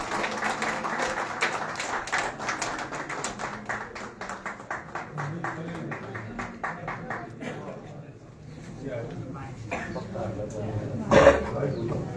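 An audience at a rally for restoring the monarchy breaks into rhythmic clapping in support of a proposal, a dense run of claps that thins out and fades toward the end.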